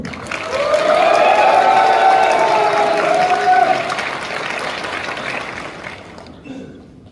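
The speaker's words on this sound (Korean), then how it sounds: "힘찬 박수로 환호해 주십시오" Applause with some cheering from a crowd at a Kia Motors union branch officer election joint rally. It is loud and sustained for about four seconds, then thins out and fades.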